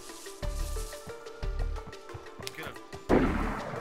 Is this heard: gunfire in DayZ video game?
yes